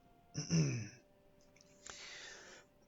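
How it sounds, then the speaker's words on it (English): A man clears his throat once, a loud, close, rough rasp, followed by a shorter, fainter breathy throat noise about a second later, with no speech around it. "I need to clear my throat."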